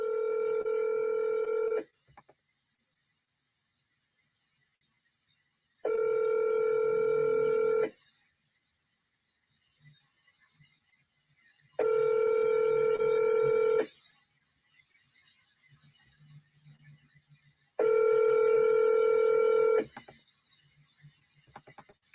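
Four bursts of telephone dialing tones from a played-back phone call, each about two seconds long and evenly spaced with silent gaps between them, clear and fairly loud with no talking.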